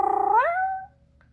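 A female cat gives one long, loud meow close by, the tone sliding upward midway and then fading into quiet.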